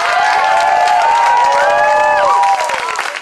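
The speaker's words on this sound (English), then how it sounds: "Clap it up for Syke one more time, y'all." Protest crowd at an Abolition Park march in New York City cheering and clapping, a dense steady roar with whistles or shouts rising and falling over it, loud and continuous before easing near the end.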